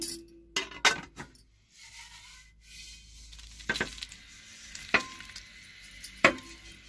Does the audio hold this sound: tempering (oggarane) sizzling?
yes